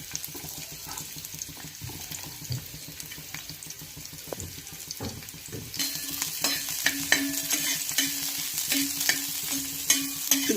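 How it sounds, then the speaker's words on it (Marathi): Masala of coconut, ginger, garlic, coriander and onion roasts on a tawa over a gas stove, with spatula scrapes and soft sizzling that swells louder and busier after the first half. "इथे गॅसवरती मी तवा ठेवलेला आहे आणि आता आपण हा मसाला भाजून घेणार आहोत"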